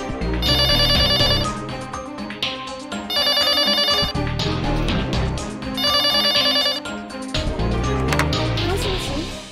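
A telephone rings in the horror video game Corpse Party, a loud electronic bell sounding in three long bursts separated by short pauses, with low music underneath.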